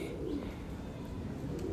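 Pigeons coo on a rooftop, low soft murmuring calls over a dense rumbling background, close and continuous, with faint higher chirps near the end.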